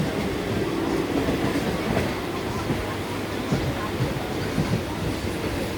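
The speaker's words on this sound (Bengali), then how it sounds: "ট্রেনটি এখন মেন লাইন থেকে জাস্ট হাসনাবাদ লাইনটা ধরলো।" A commuter train rolls from the main line onto the Hasnabad line after Dum Dum, a constant close rumble from inside the carriage with soft rhythmic wheel clicks and faint background voices.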